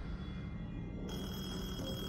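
A telephone rings in the Detention video game, a steady electronic bell tone held without a break for a couple of seconds, fairly quiet and with no one talking over it.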